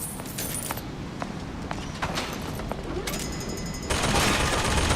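Rapid bursts of turret gunfire in Bioshock Infinite, sharp crackling shots in quick succession, growing denser and louder toward the end.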